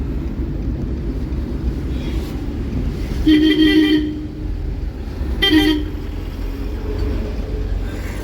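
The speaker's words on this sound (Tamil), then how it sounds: "பின்னால் அவர் ஹார்ன் ப்ரெஷர் கொடுக்குறாரு" Two short car horn honks from a vehicle behind sound a couple of seconds apart over steady road and engine noise during a driving lesson.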